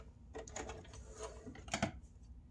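A sewing machine runs a short back stitch through a fabric Mario and Luigi cap, its needle whirring in a couple of brief bursts at close range with no talking.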